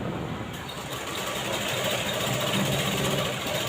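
A sewing machine stitches a nightie, giving a steady, close motor hum with rapid mechanical ticking that runs without pause and with no talking.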